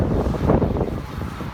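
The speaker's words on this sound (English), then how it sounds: "And it's windy." Strong wind buffeting across an open dike during a bike training ride, a rough, gusty roar pressing on the microphone, loud and continuous through the brief moment.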